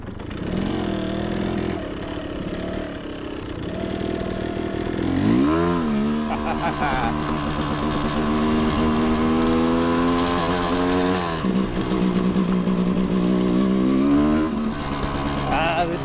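A Yamaha DT 200R two-stroke motorcycle engine revs up hard, pitch climbing and holding in a raspy, buzzing whine before dropping back, then rising again, close and loud.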